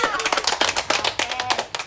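Applause at a family trunk surprise in Pangasinan: a small group claps in quick, uneven patters, close and lively, with voices murmuring underneath.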